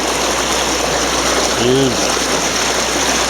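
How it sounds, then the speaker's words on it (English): River water gushes through a gap in the boards of a diversion dam, giving a loud, steady, close rushing noise. A voice briefly cuts in over the flow. "Like you can see where that water spewing through, there's a gap in there."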